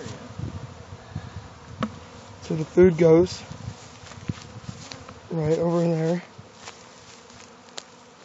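Bees buzz steadily around a newly hived colony in its new location, a continuous close hum running under a person talking nearby.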